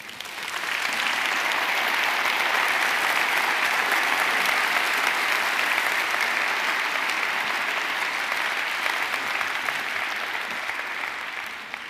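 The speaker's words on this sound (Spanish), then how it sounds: "Dale un aplauso al Señor." A church congregation claps steadily during a worship service, loud sustained applause that holds evenly for about eleven seconds before tapering slightly at the end, with no speech over it.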